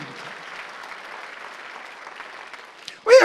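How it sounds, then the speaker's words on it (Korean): In a Korean church Sunday worship service, the congregation gives a soft, distant-sounding round of applause that stays low and even for about three seconds, then a pastor's loud voice breaks in over the dying claps. "박수를 한번 주세요"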